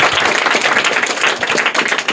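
A crowd applauding the first winner at a quiz gathering, dense close clapping that runs steadily throughout without pause.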